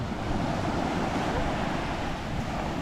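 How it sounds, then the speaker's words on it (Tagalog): Ocean waves roar in a steady, loud wash of surf at Agoo, La Union, with wind buffeting the microphone and no voices. "Ayan na yung alon."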